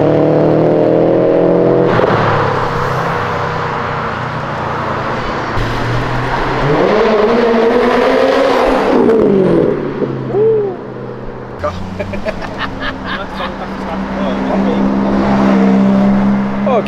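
A BMW M3 engine revs hard and rises in pitch as the car drifts sideways out of a gas station, loud and fairly close, with bystanders' voices and crowd noise around it.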